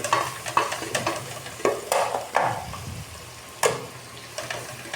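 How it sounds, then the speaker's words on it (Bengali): Cauliflower and fish curry cooking in a pan, with a steady sizzle broken by repeated sharp scrapes and clatters of stirring, close and fairly loud, with no voices. "ফুলকপি মাছ রান্না করছি"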